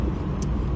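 A quiet 1979 Chevrolet Camaro with a mellow exhaust driving along, a low steady engine and road hum heard from inside for under a second.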